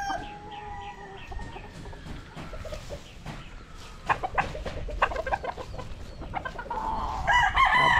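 A white-legged Sweater x Machine Kelso gamefowl rooster crows nearby, with a clear cock-a-doodle-doo and clucking among other farm fowl and a busy yard, the calls growing louder and more layered toward the end.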